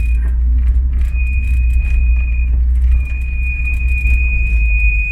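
Car brakes squeal in long high sustained tones while the car corners downhill on a road in Aracati, Ceará, over a loud low rumble of the engine and road.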